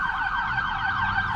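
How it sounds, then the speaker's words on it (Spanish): Ambulance siren wailing at night, a rising and falling tone sweeping repeatedly, moderately distant and fairly faint, heard alone. "Una ambulancia."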